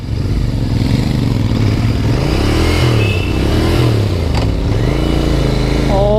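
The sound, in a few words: Royal Enfield Continental GT650 motorcycle riding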